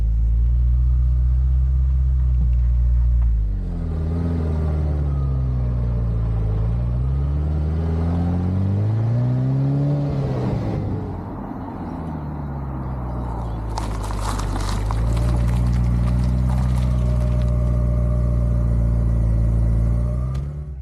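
A rebuilt Ferrari, back on the road after 28 years off, drives on a public road. A loud, steady engine rumble rises and falls in pitch through changing revs, with a harsher burst of acceleration near the end and no talk.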